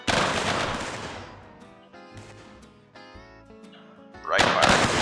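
Musket volleys in a Civil War mod of Mount & Blade Warband: a ragged burst of many shots at the start, then several separate crackling gunshots spaced apart, and a final loud volley near the end.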